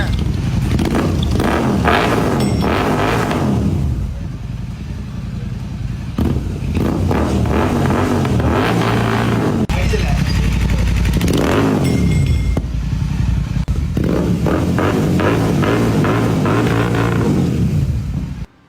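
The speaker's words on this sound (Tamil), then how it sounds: "இந்த சைலன்சரோட சவுண்டு பீட்டு கேளுங்க" A GT 650 motorcycle's original exhaust silencer rumbles loudly up close, revving up in repeated bursts and dropping back to a throaty idle between them, with no speech.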